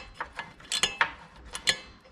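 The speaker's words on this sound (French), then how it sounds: "Je prends un petit cliquet hein, parce qu'avec les dynamos ne passe pas" A small ratchet wrench tightens bolts on a Magnum XR motorcycle, giving a string of sharp metallic clicks in uneven short bursts, close and crisp against quiet surroundings.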